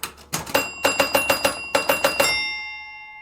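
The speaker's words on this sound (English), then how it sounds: "The bells here are just crazy right now." Rapid chime-like bells ring from a Space Ship pinball machine, a quick run of about a dozen bright metallic strikes with ringing overtones that fade out after the last hit.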